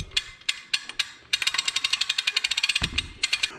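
A boat trailer winch ratchets as its strap is reeled in by hand, a crisp metallic clicking that starts in a few spaced clicks and then speeds into a rapid, even run close up.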